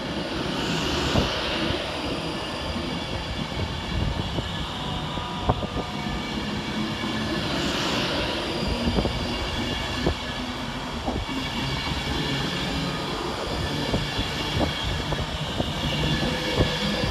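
Avanti West Coast Class 390 unit 390-049 pulling out of Wilmslow railway station, a continuous loud rumble and whine with repeated rhythmic wheel clicks over rail joints and airy hiss, steady throughout with no talk.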